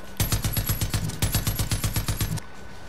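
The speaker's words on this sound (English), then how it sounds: "This turret gun is not helping." A mounted turret gun in the video game Far Cry 5 fires a rapid, evenly paced burst of loud automatic shots for about two seconds, then cuts off abruptly.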